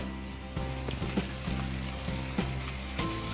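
Cooked rice is stirred into sizzling raw mango seasoning in a pan for mango pulihora, giving steady frying crackle broken by regular scraping strokes of a spoon against the metal.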